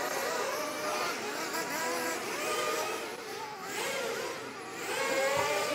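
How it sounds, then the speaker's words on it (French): Buggy race cars splash through flooded, puddled tracks in the rain at a buggy race in Portugal, a steady blended whir of engines and water spray continuing throughout with no clear pauses. "Mais les voitures là, ça roule dans l'eau quoi."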